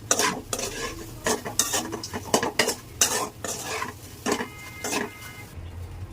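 Dried fish (shutki) cooking in a pan with little or no oil, heard up close as repeated scraping stirs and clinks of a utensil over a light sizzle, in irregular bursts with short pauses, no talking.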